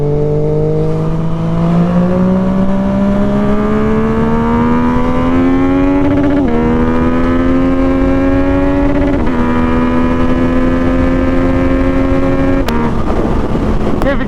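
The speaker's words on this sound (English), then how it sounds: "A couple rev limiters. Yeah, dude, this thing sounds so good, man." Sport motorcycle engine revving hard with rising harmonic pitch, hitting the rev limiter in a few sharp cuts, loud and close, recorded on a ride.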